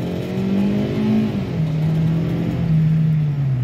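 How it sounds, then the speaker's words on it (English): A sluggish, neglected Hyundai Accent engine revs hard and steadily under full acceleration, the pitch dropping as it shifts then climbing again, loud and continuous throughout. "Let's get on this straight right here and do a hard acceleration."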